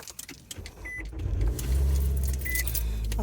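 Car keys jangle in brief metallic bursts near a car, followed by a steady low rumble of the vehicle's engine running.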